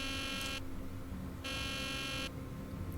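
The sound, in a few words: alarm buzzer going off in Nancy Drew: The Deadly Device video game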